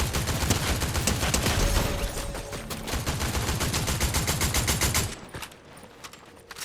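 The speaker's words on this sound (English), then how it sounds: "I feel like the fire rate increases with this gun" Rapid automatic gunfire from a weapon in the Fortnite video game, loud and sustained for about five seconds in dense bursts before dropping to sparse, quieter shots.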